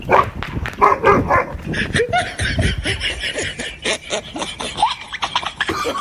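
Someone fakes dog barks as a prank, producing a burst of rough, close bark-like yelps amid laughter and lively chatter.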